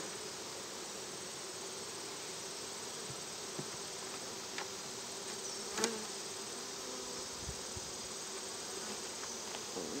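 Honey bees buzz steadily at an open beehive as active brood frames are lifted during an inspection, a soft continuous hum with a few faint knocks and no talking.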